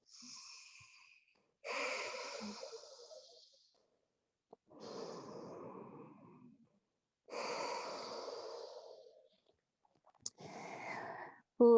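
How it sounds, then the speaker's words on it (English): Slow, deep breaths during a yoga forward fold, each long inhale and exhale clearly audible with short pauses between, close and unhurried, with no talking. "Let's breathe here."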